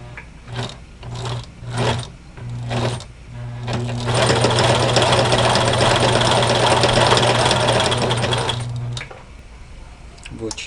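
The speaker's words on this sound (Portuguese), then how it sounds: "vou pegar o viés aqui, colocar na minha máquina de costura ali e vou costurar essa parte de cima aqui" A sewing machine stitching bias binding along the top of a handmade bag, first in several short bursts and then in one long steady run of humming and rapid needle clatter, close by, with someone speaking.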